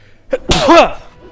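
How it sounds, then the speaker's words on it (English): A loud sneeze right into a face-mounted headset microphone during a Ragnarok Online Classic gaming session, a quick inhale followed by a single explosive burst, very close and clipped-sounding. "It really doesn't help to try to sneeze away from the microphone when the microphone is attached to your face"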